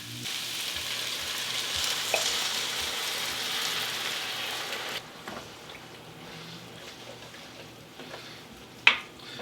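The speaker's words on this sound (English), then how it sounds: "I'm going to reduce the whole thing and cook some of that alcohol out of the wine." Wine for a vegan bolognaise sizzles hard as it reduces in a hot pan, settling to a quieter bubbling hiss halfway through, with a brief utensil clink near the end.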